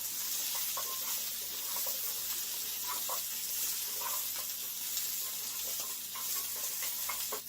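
Kielbasa and still-frozen pierogies fry in a pan, a soft, steady crackling sizzle with faint intermittent scraping taps, quiet and even from start to finish.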